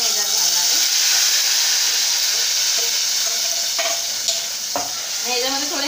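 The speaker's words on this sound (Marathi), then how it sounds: "ओके, सो आता हे टॅमॅटोचं प्युरी जे आहे ते मी ह्याच्यात घालणार आहे।" Tomato puree poured into very hot tempering oil in a pan sizzles with a loud, steady, broad hiss that fills the whole stretch, with a few brief clicks and stirring sounds.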